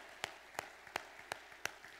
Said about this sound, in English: Everybody, give that crew behind you a round of applause upstairs, down below, the sound people.